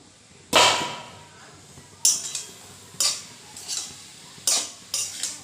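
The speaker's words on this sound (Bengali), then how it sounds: "একটু নেড়ে চেড়ে ঢাকা দিয়ে দেবো" Metal scraping and clattering in a pan as greens are stirred, about six distinct strokes at uneven intervals, close and fairly loud.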